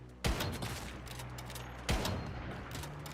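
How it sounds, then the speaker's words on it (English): Two loud, sharp gunshots in the video game Once Human, spaced about a second and a half apart, each with a short booming tail over a low steady background. "Those gunshots are ear splitting."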